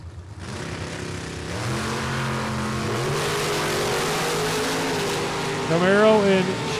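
Two drag racing cars, a Chevy 2 and a Camaro, roar down the strip at a Super Pro event. The engine drone is loud and steady, with rising harmonic tones late in the run, and no speech over it.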